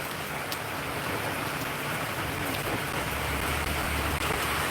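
Steady rain pours down on a busy street as cars pass by, a dense, constant hiss that stays loud and unbroken throughout.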